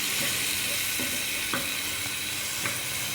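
Tempering for palak dal sizzles steadily in hot oil, a loud continuous hiss broken by a few soft stirring clinks.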